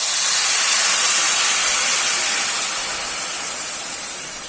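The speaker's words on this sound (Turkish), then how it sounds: "Suyunu da üzerine geçecek kadar ekliyorum." Water poured into a pan of toasted pasta sends up a loud, continuous broadband hiss of steam that slowly tapers over several seconds, with no talking.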